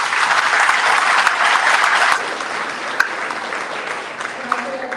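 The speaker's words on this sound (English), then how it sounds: "Let's give them a round of applause." An audience at a chamber of commerce annual awards event claps steadily for about two seconds, then the applause thins and fades to a lighter patter.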